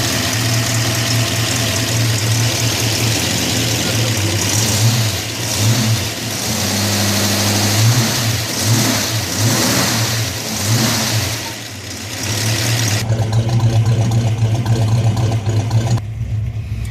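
A 1967 Shelby GT350 with a slight exhaust leak on the right bank revs hard and loud up close, swelling and dropping repeatedly before settling into a steadier rumble for the last few seconds.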